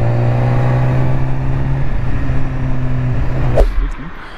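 A BMW S1000RR motorcycle accelerating to overtake, its engine droning with a steady rising tone, then cut off by a sharp burst of wind noise as it pulls out, heard close from the rider's position.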